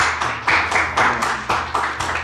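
Applause for Odair at a Honda motorcycle award ceremony, a burst of enthusiastic clapping from a nearby crowd with rhythmic swells, loud and close, with no talking over it.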